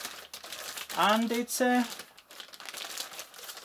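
A plastic bag wrapping a NeXT N192 keyboard crinkles in short rustling bursts, close and fairly soft, while a person speaks briefly over it.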